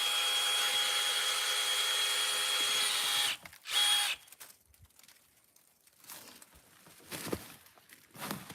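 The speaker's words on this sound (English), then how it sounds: "if you look at your shavings as you're drilling, you could tell that this is nice, clean, fresh sapwood I'm hitting" A drill bores a tap hole into a maple tree, a steady high whirring run of about three seconds close to the microphone, followed by a short burst and then crinkling, rustling handling noises outdoors.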